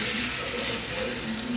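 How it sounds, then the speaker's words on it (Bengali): Water being poured into a pot while cooking a Bengali dish, a steady rushing gush that fills the short moment at close range with no talk. "দেখো এবার জল দিয়ে দিচ্ছি"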